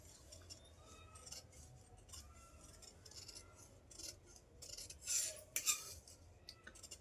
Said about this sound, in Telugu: ఇప్పుడు గల్ల కట్ చేసేసుకుందాం, రౌండే కాబట్టి.